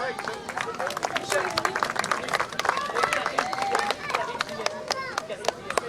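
Applause for a professional football coach at a radio station's ceremony in Brussels: a modest crowd claps in a steady patter for several seconds, with voices and babble mixed in beneath.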